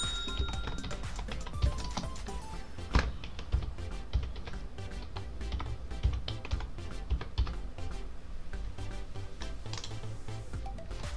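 Someone types text on a keyboard to save a restaurant location: a steady, close clatter of key presses runs for about eleven seconds, with a few louder taps along the way.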